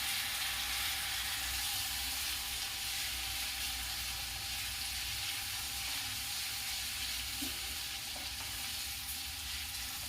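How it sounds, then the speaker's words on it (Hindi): Garlic masala fries on a low flame for a spinach and garlic kadhi, giving a soft, even, continuous sizzle with no talk over it. "इसे मैं 2 मिनट भून लूंगी। लो फ्लेम पर ही भूनूंगी।"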